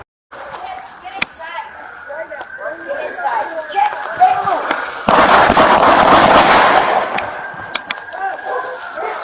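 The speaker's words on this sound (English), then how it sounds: "fires a second volley of AR rounds towards the officers" A volley of AR rifle gunfire during an active shooter confrontation with police, a dense stretch of rapid loud shots among scattered sharp cracks, with voices and radio chatter around it.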